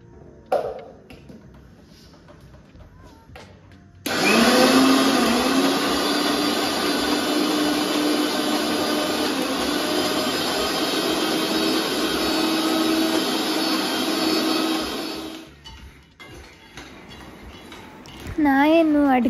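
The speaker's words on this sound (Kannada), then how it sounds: "ಹಾಗೆ ಈ ಕಡೆ ಉದ್ದಿನ ಬೇಳೆನೂ ಮಿಕ್ಸಿ ಮಾಡ್ಕೊಂಡ್ರೆ ಆಯಿತು" An electric mixer grinder whirs loudly while grinding urad dal, running steadily for about ten seconds with a bright motor whine, then stopping; quiet talk is heard before and after.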